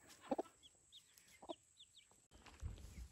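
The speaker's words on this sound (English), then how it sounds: "Look at the cute little chickies." Young chicks and chickens cluck and peep in soft, scattered calls on a homestead, with a few louder close clucks among faint chirps and light rustling.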